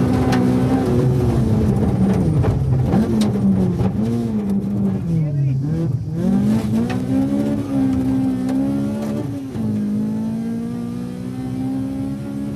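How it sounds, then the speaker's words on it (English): A rally car engine in the 1996 Circuit of Ireland Rally, heard from inside the cockpit, drones loud and continuous with rising and falling revs through gear changes. "Let's experience that illumination from inside the Doyle's car as they continue to climb out of obscurity"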